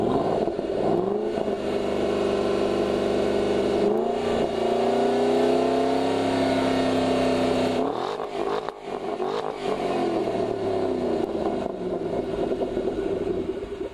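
A car engine revs loudly and holds at high pitch, dips, then climbs again, sustained and close throughout.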